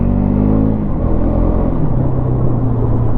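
A 2025 KTM Duke 250 motorcycle engine rumbles loud and close in a steady, throaty drone, its pitch shifting slightly partway through, with no talk over it.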